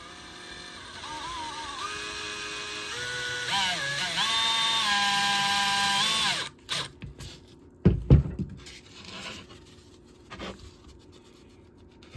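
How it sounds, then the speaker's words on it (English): A cordless drill on its low setting with an extension bit drives and countersinks a screw into a foam fish mannequin for taxidermy, whirring steadily for several seconds before stopping, followed by faint handling knocks. "I got my drill on the low setting, and I got an extension bit on here so we can really countersink this."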